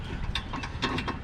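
A ratchet tightens the caliper bracket bolts on a 2006–2008 Honda Pilot's rear brakes. It gives a short run of quick, close metallic clicks in small bursts.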